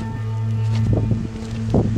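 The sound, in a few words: strong wind blowing at a mountain stream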